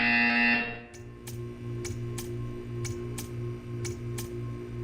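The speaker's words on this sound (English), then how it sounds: "You will hear a buzzer." A buzzer in the Portal 2 video game sounds after a loud tone cuts off, followed by a steady series of evenly spaced sharp ticks over a low electronic hum.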